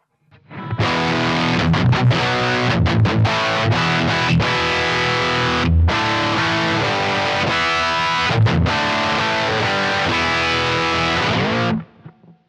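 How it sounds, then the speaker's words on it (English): Heavily distorted electric guitar through a distortion pedal, playing thick, saturated chords and riffs, loud and continuous with brief pauses, then cutting off at the end. "it's a really nice, silky, creamy distortion"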